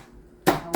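A knife chops a cheongyang chili pepper on a board with one sharp, close strike, followed by the start of a second near the end, in an otherwise quiet kitchen.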